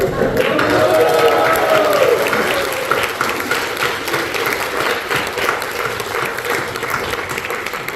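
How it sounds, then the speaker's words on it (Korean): A congregation at a university's 30th-anniversary thanksgiving service and graduation ceremony claps steadily while shouts of bravo ring out near the start, the clapping continuing loud and even throughout. "박수 안에서 브라보 크게 외칩시다"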